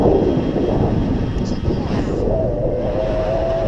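An Eagle Tree Vector Maiden FPV model plane flies with a steady, loud motor drone over heavy wind rush, the pitch rising slightly near the end.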